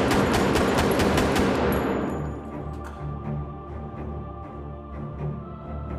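Rapid automatic gunfire rattles loudly at a firing range in a film, a dense burst of shots that stops abruptly and leaves a fading ringing tail and low hum.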